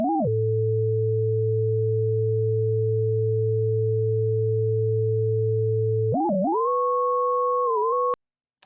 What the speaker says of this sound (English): instead of connecting the oscillators to the destination, we're going to connect them both to the tremolo module